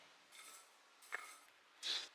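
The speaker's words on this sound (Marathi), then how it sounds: "आपल्याला याला स्टर करायचं आहे." A spoon stirring sugar and water into syrup in a pan: three faint, separate metallic scrapes and clinks in an otherwise quiet kitchen.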